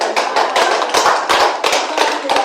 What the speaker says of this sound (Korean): 우리 동일 교도님들 박수 좀 쳐주세요